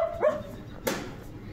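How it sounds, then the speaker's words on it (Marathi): A German shepherd barks twice, short and close, the two sharp barks spaced under a second apart in a quiet room. "लिओला आज अनबॉक्सिंग करू नाही दिली म्हणून ते भुंकतोय"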